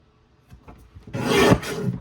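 Paper trimmer slicing through a sheet of paper for an accordion hinge album, a soft rasping cut lasting about half a second, near and moderately loud with a few faint handling taps before it.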